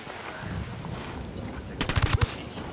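Gunfire in the video game Ghost Recon Wildlands: after a stretch of low rumble, a quick burst of several sharp, loud rapid shots crackles near the end of the clip, with no talking.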